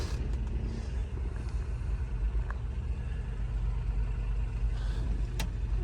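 A 1987 Toyota pickup engine runs steadily after a cold start, a low, even idle rumble close by with a replaced muffler, alone with no talk.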